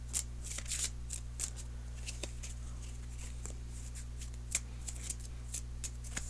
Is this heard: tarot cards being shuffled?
yes